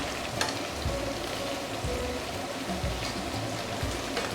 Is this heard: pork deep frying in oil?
yes